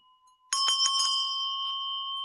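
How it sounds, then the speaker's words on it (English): A hand bell rung during an energy-cleansing session strikes about four quick times, then its bright metallic tone rings on clearly and steadily, close and loud. "that's why I ring the bell"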